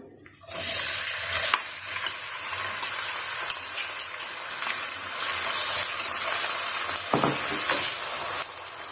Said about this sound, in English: In my cooking pot, I add some vegetable oil, then I add the chopped onion,